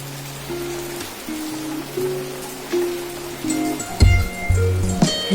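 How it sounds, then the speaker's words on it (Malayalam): Morning rain falls as a soft, even hiss. It sits low in the mix beneath a steady electrical hum, with a few louder knocks near the end. "രാവിലെ മഴ നോക്കി നിൽക്കാൻ നല്ല രസമുണ്ട്"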